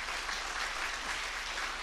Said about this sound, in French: je pense que vous pouvez déjà applaudir les gens qui ont travaillé sur le sujet